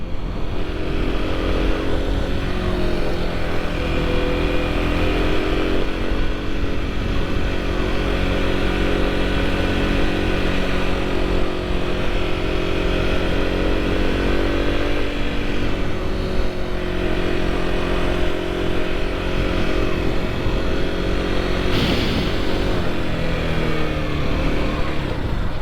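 A Kawasaki KLX 300 supermoto engine idles and blips after being shifted into neutral, a loud, continuous, buzzy single-cylinder drone with small revs throughout, and no talk.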